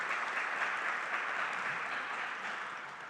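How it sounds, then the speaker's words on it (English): Steady applause from an audience at a small business meeting, a dense wash of clapping that holds for a few seconds and tapers off slightly toward the end. "Please give him a round of applause."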